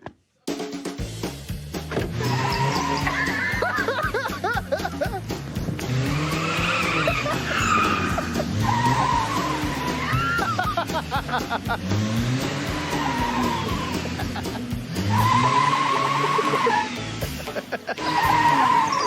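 A car slides sideways with long, wavering tire squeals and skidding, layered over a revving engine; the screeching rises and falls repeatedly, loud and close, with little talk.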